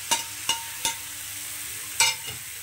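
Drumstick pulp frying with tomato in a pan is stirred with a spatula, a handful of distinct scraping knocks over a faint sizzle, quiet and close.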